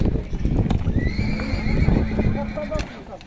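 A horse whinnies in a long, high, wavering call at a horse market in Sokuluk, above a noisy crowd of voices, with hoof sounds mixed into the bustle.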